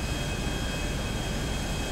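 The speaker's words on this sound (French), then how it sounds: "Fais un pic sur moi avec ton avion" An airplane flies in the video game GTA V Online, heard as a continuous broadband engine drone at moderate level that holds steady without voices.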